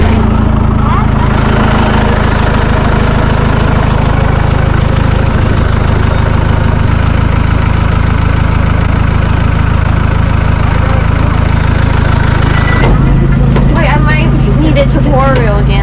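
A tractor mower engine runs loud and steady from start to finish. Its low rumble idles without pause, and its tone shifts abruptly near the end.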